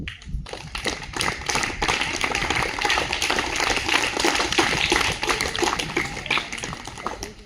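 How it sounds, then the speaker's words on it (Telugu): An audience at a Pulwama attack remembrance event claps for fallen soldiers, dense sustained applause of many hands, loud and steady from start to finish. "వాళ్ళ కోసం మనము ఒకసారి చప్పట్లు కొట్టుకుందాం."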